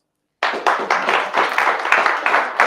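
After a moment of silence, a small audience at a livestreamed pitch event starts clapping, with individual claps audible in a quick, uneven rhythm that stays moderately loud.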